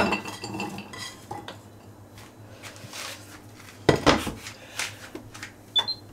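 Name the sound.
frying pan being handled and stirred while cooking pumpkin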